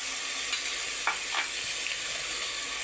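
Spices, turmeric, salt, coconut powder, tomato and onion pieces sizzle and fry on a low flame for cauliflower khurma while a spoon stirs them, a steady hiss with a few scraping strokes, close up and with no speech.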